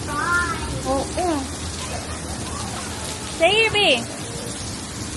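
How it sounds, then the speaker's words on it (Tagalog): Heavy rain pours steadily around people outside after shopping at a marine store, a broad even hiss that continues under brief bits of talk. "Naabutan kami ng ulan. Ang lakas ng ulan."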